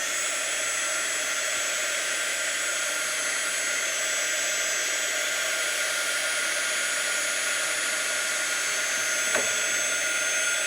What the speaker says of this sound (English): So now I'm just going to dry this off.